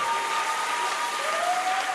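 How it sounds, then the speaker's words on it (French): A karaoke competition audience applauds a finalist at a semi-final, giving a soft, even patter of clapping heard from some distance, with a faint tone running beneath it. "Qui mérite des acclamations."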